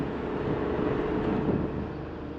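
Steady broadband wind rushes across the microphone on a hill road with hairpin bends, a continuous loud roar without gusts or breaks.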